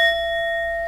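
A small bell dinged once to open a tarot reading, its steady ringing tone sustaining clearly and alone for just under a second with no talk over it.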